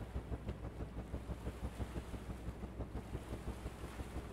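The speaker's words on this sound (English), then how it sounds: "Start our engine up." A boat engine in the Stormworks game drones steadily with a low, rumbling hum and rushing water and wind noise, continuous throughout with no talking.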